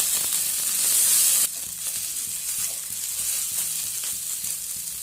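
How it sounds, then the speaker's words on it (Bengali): Cumin seeds, chopped green chilli and ginger fry in hot oil, giving a loud, close sizzle that surges brightly at first, then settles into a steady crackling hiss with occasional stirring scrapes. "এবার সব কিছু আমি প্রায় মিনিট খানেক ধরে ভেজে নেব।"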